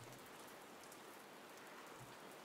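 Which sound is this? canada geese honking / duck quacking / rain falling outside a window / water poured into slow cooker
rain falling outside a window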